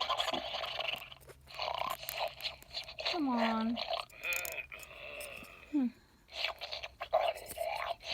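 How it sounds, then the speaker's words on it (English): A plush toy monster makes gurgling, gobbling eating noises and squeaky rising and falling cries in short bursts, close and fairly quiet, with a person talking briefly between them. "He's making eating sounds."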